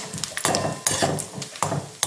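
Grated coconut and cashews frying in ghee in a pan, with repeated stirring scrapes and clinks of a spoon against metal over a light sizzle.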